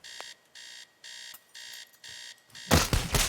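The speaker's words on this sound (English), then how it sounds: "Fuck you, alarm clock." An alarm clock rings in the video game Teardown, giving five loud, even electronic bursts in a steady on-off rhythm before a burst of crashing noise cuts in at the end.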